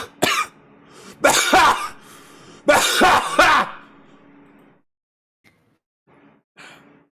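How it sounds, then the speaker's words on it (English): Several harsh, close coughs in two bursts, followed by quieter breathing and a faint throat sound before trailing off. "that honk made me cough"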